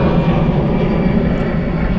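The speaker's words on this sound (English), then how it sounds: "I will wait for this plane to pass" A fixed-wing airplane roars overhead, a loud, steady engine drone filling the whole stretch with no talk over it.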